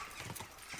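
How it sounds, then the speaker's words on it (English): A horse's hooves clip-clop at a steady riding pace in Kingdom Come: Deliverance 2, the quiet rhythmic thuds set against a soft outdoor early-morning ambience. "showing off some gameplay where I'm just riding my horse Pebbles"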